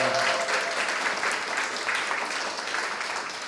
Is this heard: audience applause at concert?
yes